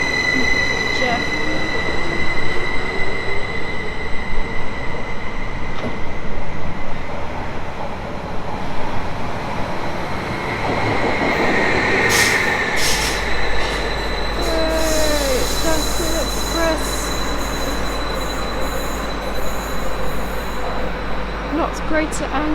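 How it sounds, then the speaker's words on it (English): A train passes through Manningtree station on the Great Eastern Main Line with a loud, sustained rumble of wheels, squeals and high screeching, joined by a low drone partway through, while a person talks over it. "Goodbye, Jeff Train"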